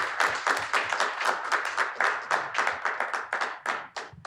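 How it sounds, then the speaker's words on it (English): Applause from the audience at a church symposium on artificial intelligence, with dense, fairly close clapping that carries distinct individual claps in a lively, uneven rhythm throughout. "Let's give them another applause for that."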